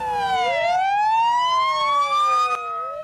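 Wailing and yelping sirens from airport fire trucks responding to the 1988 Delta Flight 1141 crash, several siren tones overlapping and sweeping up and down, loud and close, with a sharp click near the end.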